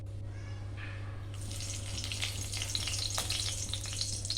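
A bay leaf and whole spices dropped into hot oil in a kadai for a dhaba-style green peas kurma, setting off a close, steady crackling sizzle that swells after a brief quieter start.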